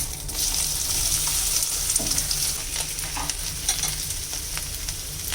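Ground cumin, coriander and turmeric sauté in a pan for a Bengali bottle gourd stem and potato curry, giving a steady close sizzle with scattered soft stirring scrapes and no talking.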